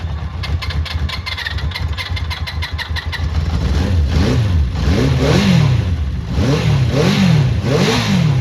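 A Honda CB400 Four classic motorcycle under restoration cranks with a rapid starter whir, catches, and settles into a steady four-cylinder idle with a few throttle blips, loud and close.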